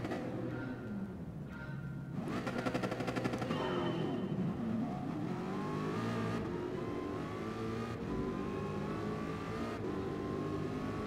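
A race car engine in Gran Turismo Sport drones steadily through an online race, revving and shifting with a rapid buzzing rattle early on, continuous and fairly loud with no talk.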